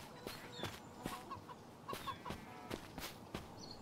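Chicken clucking in the open-world survival game Incur Survival, a few short clucks and scratchy steps repeating at a steady pace over quiet background ambience.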